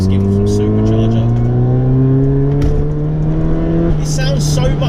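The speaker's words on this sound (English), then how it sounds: "It sounds so much faster than you're going, this car." A supercharged Toyota Soarer accelerates hard, heard from inside the car, its loud engine and supercharger whine climbing steadily in pitch, then dropping briefly at a gear change before pulling on again.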